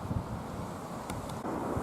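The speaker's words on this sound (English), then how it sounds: "It's not as windy as I thought it'd be." Outdoor wind during a windstorm buffets the microphone as a steady low rumble with brief gusty swells and a few faint ticks, with no talking.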